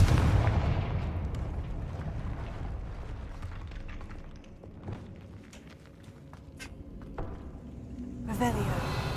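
Confringo fire spell explosions in Hogwarts Legacy: a heavy, rumbling blast opens, with crackling impacts and footsteps through the middle and another burst near the end, while a voice talks over it.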